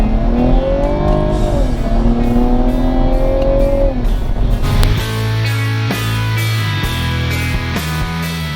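A 2016 Cadillac ATS-V's turbocharged engine in track mode revs loudly up through the gears, with rising pitch sweeps and sharp shift breaks, then settles into a steadier, lower-pitched drone close by.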